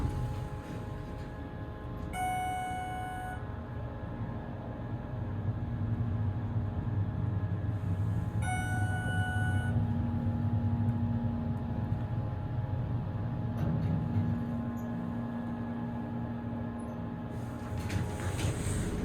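A Schindler hydraulic elevator car with 3,500-pound capacity rides up at Monona Terrace in Madison, Wisconsin, giving a steady low rumble and whir throughout, with a couple of brief high chime-like tones early on.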